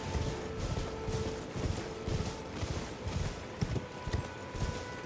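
Steady rhythmic clip-clop of galloping horse hooves in Elden Ring, loud and close, over a constant low rumble, with no voices.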